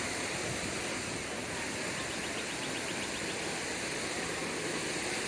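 Water running down a channel toward a pool at Disney's Wilderness Lodge, a steady broadband rush that holds evenly throughout, close and unbroken, with no talk over it.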